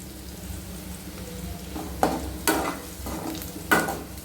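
Curry leaves and fenugreek seeds dropped into hot oil for a vegetable stir fry, a steady soft crackle broken by several sharp bursts of sizzling, close by.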